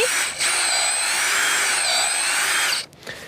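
An electric power drill bores a 4.5 cm deep hole, a loud steady whine holding for nearly three seconds before cutting out, followed by brief handling noise.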